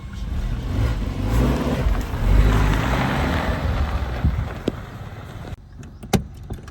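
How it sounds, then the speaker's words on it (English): A Suzuki Jimny 4x4 drives on a test drive, its engine and road noise a steady rumble from inside the cabin that thins out near the end, where a few sharp knocks and clicks come through. "Now let's head on for a test drive of this beautiful machine."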